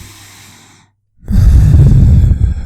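A voice imitates nervous, shaky breathing: a soft breath, a brief pause, then a loud, trembling, jittery exhale that lasts to the end.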